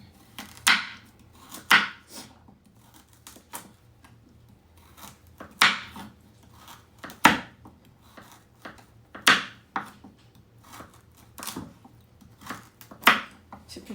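A knife chops potatoes and carrots into small squares on a board, with sharp, close taps that come in irregular clusters and short pauses.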